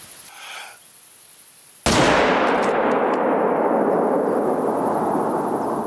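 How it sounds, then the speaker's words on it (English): A rifle shot fired at a gemsbok in the hunting game The Hunter: Call of the Wild. It is one sudden, very loud blast followed by a long rumbling tail, after a quieter stretch of faint ambience. "I'm shooting this Gemsbok."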